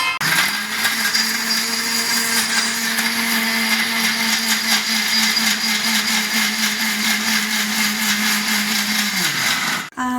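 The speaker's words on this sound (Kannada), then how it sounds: "2 ಟೊಮೆಟೊ, ಹಾಗೆ ಸ್ವಲ್ಪ ಅರ್ಧ ಕಾಯಿ ತೊಗೊಂಡಿದ್ದೇನೆ. ಇವಾಗ ರುಬ್ಕೊಂಡು ತರ್ತೇನೆ." A kitchen mixer grinder blends tomatoes, onion and half a coconut into a paste, a loud, steady motor whir that holds for about ten seconds and cuts off abruptly, with no voices.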